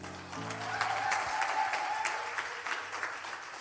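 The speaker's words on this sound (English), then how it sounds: "Please give her another warm round of applause, man." Crowd applauding after a performance at a live beauty pageant: steady, dense clapping throughout, moderately close, with faint musical tones in the background.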